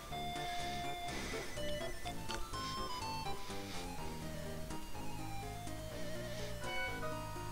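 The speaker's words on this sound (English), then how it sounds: "Ah, the phone. Let's stop the phone as usual." A telephone rings inside the LandStalker video game, its electronic chime repeating over steady chiptune-style game music that runs throughout at an even level.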